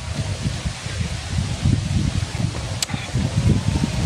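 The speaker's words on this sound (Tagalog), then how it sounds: "Mahangin. Libre ang aircon dito, napaka-fresh." Wind blows outdoors in gusty, low rumbling buffets that batter the microphone steadily throughout, with a faint brief whistle partway through and no talking.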